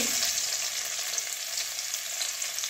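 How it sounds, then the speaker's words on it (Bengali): Chopped garlic sizzles in hot oil with dried red chillies and five-spice seasoning, a steady bright crackling hiss heard close up and alone. "এবারে রসুন কুচি দিয়ে দিচ্ছি।"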